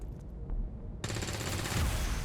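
Gunshots in XCOM 2, a quiet moment broken by an abrupt, loud burst of rapid automatic fire that continues steadily to the end.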